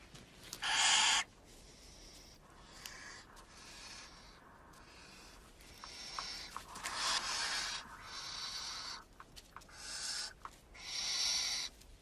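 Barn owls give harsh, raspy hissing screeches in the wild, several long breathy bursts separated by quieter rustling, fairly close and loud against a soft background.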